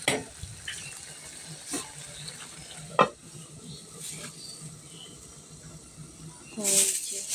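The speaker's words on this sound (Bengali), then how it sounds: "তো এই যে এখন কষানো হচ্ছে" Spices and vegetables sautéing in a home pan, with a soft continuous sizzle, a few scraping stirs and clinks of the utensil, moderately close; a voice speaks faintly in the background.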